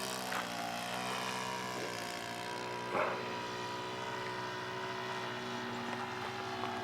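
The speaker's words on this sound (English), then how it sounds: "Take off, roll. Oh, she flies nice, Jack." A model Zero airplane, just after takeoff, flies with a steady, droning propeller hum that holds a fairly even pitch. It is faint and distant, with a brief bump partway through.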